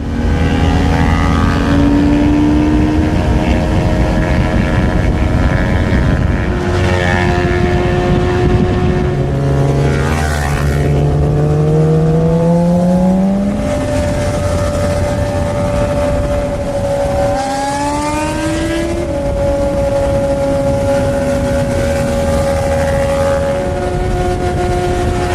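A Kawasaki Ninja 400 motorcycle being ridden hard, its engine note climbing and falling through repeated revs and gear shifts with steady loud wind rush throughout, close and continuous with no talk.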